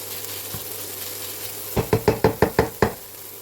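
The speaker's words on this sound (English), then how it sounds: "we're just going to do a very quick fry off" Vegetables quick-fry in a hot pan, a soft sizzle underneath, then a rapid run of about seven sharp knocks as a utensil strikes and stirs against the pan, close and fairly loud.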